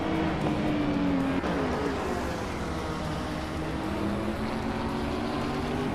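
A Vector M12 SR race car engine drones in a racing video game, a steady, sustained motor whine with slowly shifting pitch, no voices over it.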